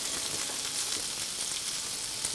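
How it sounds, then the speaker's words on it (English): Shrimp laid into a hot pan for grilling, giving a dense, even sizzle that hisses steadily at close range with no voices over it. "I've got my pan heating up, and I'm just gonna go ahead and start placing them on there, just like that"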